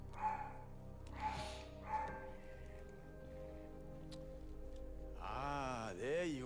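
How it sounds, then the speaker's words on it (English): A dog barks a few times in short, sharp bursts, followed by higher, whiny yelps near the end, close by and fairly quiet. "Excuse Gumi and her barking"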